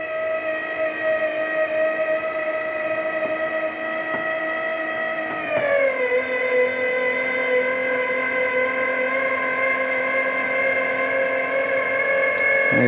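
A motorized section on a 2023 Forest River FR3 34DS motorhome folds back up with a steady, loud electric motor whine, its pitch dropping partway through and then holding level to the end, with no talking.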